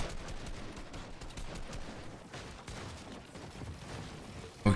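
Gunfire from an online multiplayer video game rattles in fast, dense bursts through the game mix, moderately loud and mid-distance, sustained over several seconds and ending with a short sharp knock.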